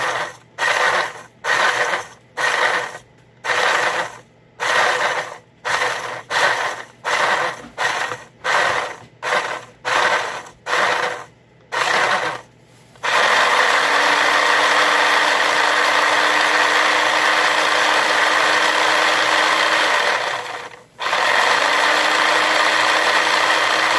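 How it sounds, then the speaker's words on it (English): A food processor chops dried garlic scapes and green onions, first in a rapid series of short pulsed bursts, then in one long continuous loud whirring run with a brief break near the end. "Transferred all the green onions into this processor."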